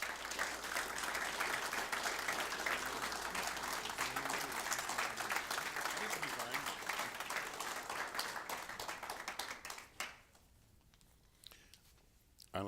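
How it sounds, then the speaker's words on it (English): An audience applauds a Medal of Honor recipient, Ronald Rosser, with sustained dense clapping and some crowd noise that runs about ten seconds, then fades sharply to quiet room tone. "Please give a round of applause to Ronald Rosser."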